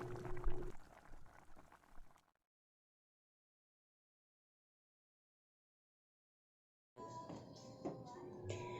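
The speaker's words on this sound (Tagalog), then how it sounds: "Yan, papakuluin po natin yan." Water bubbles and simmers in a pot for fish paksiw made with oregano, a soft, steady boiling heard in two stretches separated by a few seconds of complete silence.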